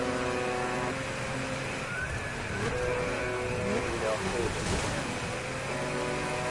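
Aircraft drone steadily overhead in a video game, a continuous layered engine roar that fills the background while voices talk over it.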